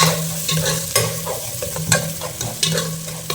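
Fennel and fenugreek seeds sautéing in a pan for a village-style ayila mackerel fish curry: a close, loud sizzle with rhythmic scraping strokes of a spoon roughly every second, and no voices.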